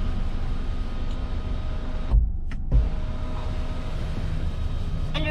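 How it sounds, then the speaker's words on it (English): The power window of a Nissan Rogue SL runs with a steady electric motor hum, broken by a short pause partway through before the hum resumes. "there's also another button I can press and the window opens"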